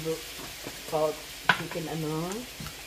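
Chicken pancit sizzles and is stirred in a pan, a soft frying hiss with scraping stirs underneath while someone talks over it.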